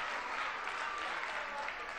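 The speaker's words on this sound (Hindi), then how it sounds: "ये तो समझ में आ गया कि इतनी तगड़ी ताली क्यों बजी" An audience at a poetry gathering claps steadily after a poem, a brief, even wash of applause at moderate distance with a faint murmur of voices beneath it.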